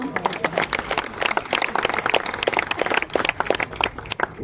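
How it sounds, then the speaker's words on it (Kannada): An audience at a religious discourse at a math claps together in a dense, lively burst of applause that carries on steadily without talking. "ಅರ್ಥ ಆಗಿದ್ರೆ ಚಪ್ಪಾಳೆ ಹೊಡ್ರಿ ಅವನು."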